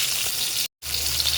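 Garlic and onion sautéing in oil, with a loud, close, steady sizzle that cuts out briefly for a moment before resuming at the same intensity.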